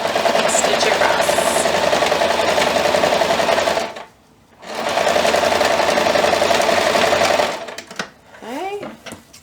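Sewing machine stitching across the layers of a small oven mitt, a close, fast whirring run that pauses briefly and starts again, followed by someone speaking at the end.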